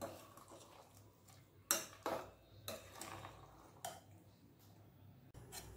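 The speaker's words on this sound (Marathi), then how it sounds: "आणि व्यवस्थित असं हलवून घ्यायचं आहे." A metal spoon stirs marinated chicken in a cooking pot for chicken biryani, giving a handful of sharp, quiet clinks and scrapes against the metal, spaced irregularly over soft background noise.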